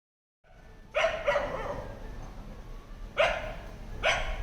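A rescued Pomeranian, blind and once abandoned, yaps four sharp barks close by, two quick ones, then a pause, then two more, over a quiet background.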